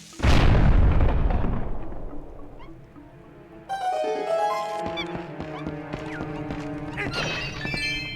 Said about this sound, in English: We'll just let that explode.